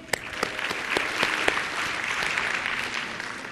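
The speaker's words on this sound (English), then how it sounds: "Let's give her a round of applause." A room of teachers claps for a presenter at a classroom technology session, a loud, dense round of applause with a few sharp individual claps standing out near the start.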